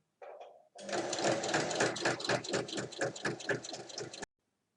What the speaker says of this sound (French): Il faut ensuite venir faire une surpiqûre.